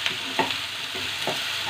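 Carrot, spring onion stalks, cabbage and capsicum stir-fry on high flame for Hakka noodles, with a bright continuous sizzle broken by several rhythmic spatula scrapes and tosses close by.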